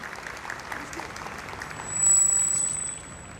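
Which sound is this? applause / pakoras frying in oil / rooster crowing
applause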